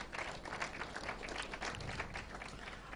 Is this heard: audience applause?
yes